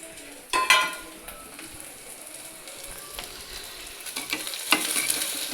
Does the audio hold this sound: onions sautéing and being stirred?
yes